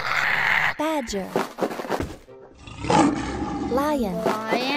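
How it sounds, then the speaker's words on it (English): A lion roars loudly in a kitten preschool video game. Several roars come in close, rising and falling growls, mixed with game sounds and other animal calls, while a voice speaks over them. "Lion. Lion and kangaroos."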